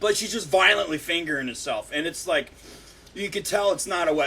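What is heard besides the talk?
No everyday noises stand out.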